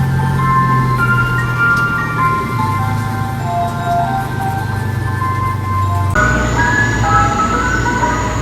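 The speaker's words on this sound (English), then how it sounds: "unlabeled white vans playing ice cream truck music driving around town" An unlabeled white van drives around town at night playing ice cream truck music, a steady tinkling melody over traffic rumble that shifts abruptly near the end.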